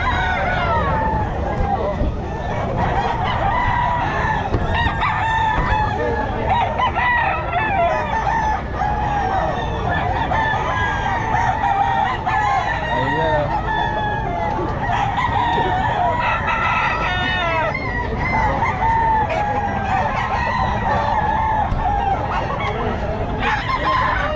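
Roosters crow repeatedly amid clucking fowl at a busy pet market in Bocaue, including a Boston Sweater rooster, with people chattering throughout.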